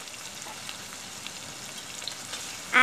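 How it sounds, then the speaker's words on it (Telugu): Onions and tomatoes fry steadily in a pan, a constant close hiss of sizzling with faint crackles throughout, ending in a brief louder scrape. "ఆనియన్స్ కొద్దిగా ఫ్రై అయినాయి కదా ఫ్రెండ్స్"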